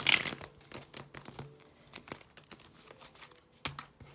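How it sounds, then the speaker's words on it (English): A deck of tarot cards is shuffled by hand in quiet, papery riffles and crinkles, with a louder burst at the start and then softer repeated card flicks. "This deck never wants to shuffle."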